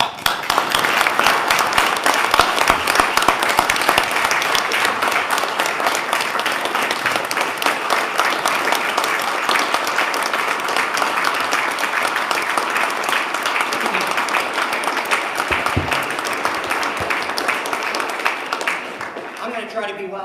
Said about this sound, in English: let's give these all a round of applause.